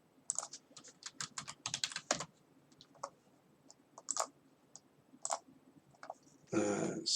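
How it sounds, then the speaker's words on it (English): Typing on a computer keyboard while building a website: bursts of close, crisp key clicks in irregular runs with pauses, ending in a louder cluster of rapid strokes. "So let's type in long."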